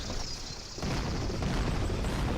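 A single heavy boom as an artillery piece fires during a Civil War battle at Bull Run in a video game, a loud burst that rolls on into sustained low rumble.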